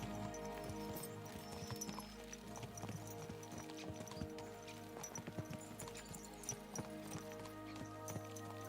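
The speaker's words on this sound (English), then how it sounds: "Let's really spur these horses on, eh?" Horses' hooves clip-clop steadily at a quick pace in Kingdom Come: Deliverance II, rhythmic hoofbeats over a continuous low rumble and ambient game music, with no talk.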